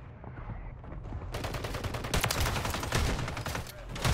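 Gunfire in Call of Duty Warzone on Rebirth Island, a rapid volley of shots that starts after a quiet moment and keeps rattling with bursts and loud peaks.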